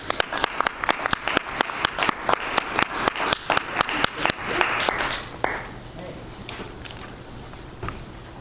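An audience claps steadily in a crisp, dense wave to welcome speaker Marty Harger, loud and sustained for about five seconds before thinning out to a few stray claps and room quiet.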